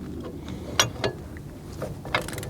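A torque wrench tightening bolts during a weight-distributing trailer hitch installation, a few sharp mechanical clicks spaced irregularly, close up over a faint background hum.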